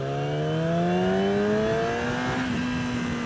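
A 2016 Yamaha R6 60th Anniversary motorcycle's small engine revving up steadily under acceleration, its whining pitch climbing continuously with a brief shift-like dip near the end, loud and close with wind noise.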